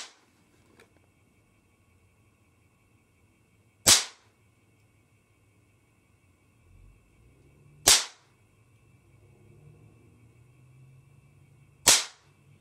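A Rothenbuhler Model 1680 fires three sharp, loud sequential shots about four seconds apart, each a crisp crack over a quiet background.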